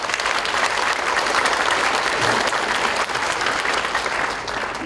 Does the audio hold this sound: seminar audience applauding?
yes